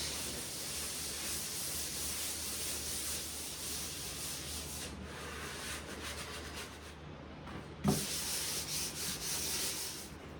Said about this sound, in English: I started sanding with a 120 grit to get a good scuff on them before applying the primer